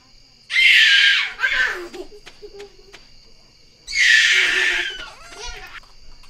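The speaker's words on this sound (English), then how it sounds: "Now, if only my kids would stop screaming." Children scream and shriek in two loud, high-pitched bursts separated by a quieter gap, heard up close with no other voices over them.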